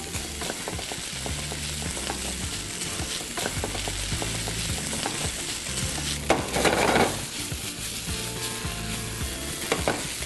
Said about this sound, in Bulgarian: Леко жарнати лук и бекон.